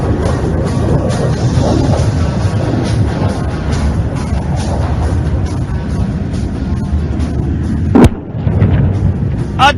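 A laser-guided bomb dropped by a Su-30 MKI explodes on a target at an Indian Air Force air show, a single sharp blast rising out of a steady roar of crowd and ambient noise, followed by a brief rumbling tail.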